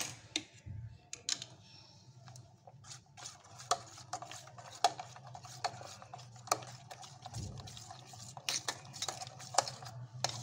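Aloe vera soap mixture is stirred in a container, with quiet, irregular clicks and taps of the utensil against the sides, soft and close with no voices.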